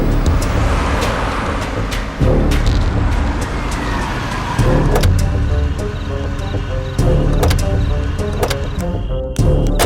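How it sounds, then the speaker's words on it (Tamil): A car running close by with a loud, steady engine rumble and road noise throughout, a few faint clicks and knocks on top, with no clear slowing or stop. "டேய் வண்டி அங்க நிறுத்துடா."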